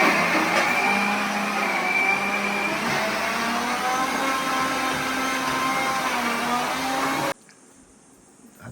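An electric mixer whines loudly and steadily nearby alongside a running pressure cooker, with a wavering motor tone that cuts off abruptly near the end, leaving quiet room sound.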